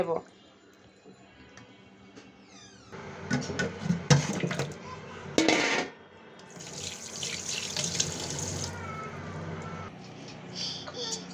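Running tap water splashes over stinging catfish being washed in a sink after cleaning with turmeric and salt, a steady rush with clatter and handling noises, close by, while a person talks.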